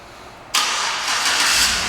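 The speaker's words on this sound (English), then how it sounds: "and the car starts right up" A 2011 Chevrolet Suburban LT engine fires up by remote start after a quiet moment, a sudden loud catch that settles into a steady, close idle.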